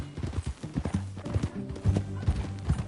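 Horse hooves clip-clopping at a steady walking rhythm in Red Dead Redemption 2, close and clear, with a low background rumble and no talking.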